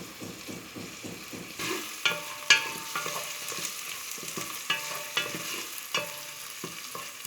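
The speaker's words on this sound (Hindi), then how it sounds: "इन्हें आपने अच्छी तरह से फ्राई कर लेना है" Cumin seeds sizzle in hot oil in a pan for keema naan, a steady crackling fry broken by repeated scraping stirs and light clicks of the spoon, close and moderately loud with no talking.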